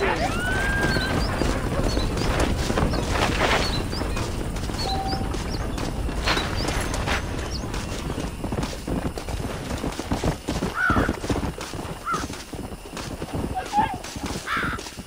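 Horses' hooves clip-clopping in the video game Red Dead Redemption, an irregular run of close hoof beats under scattered bird calls and occasional faint voice sounds, fairly steady throughout.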